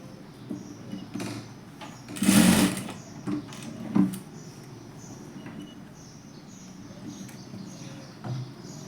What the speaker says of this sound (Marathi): ही चून टाकून हे असं शिवून घ्यायचं